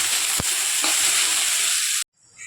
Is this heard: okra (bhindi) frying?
yes